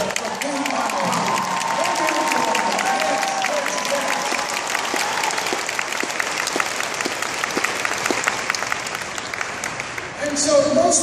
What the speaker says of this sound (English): Give yourself a round of applause for being my dream.